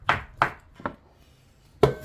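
A knife chops boiled potatoes into small cubes on a board, four sharp, close chops spaced irregularly with quiet pauses between them.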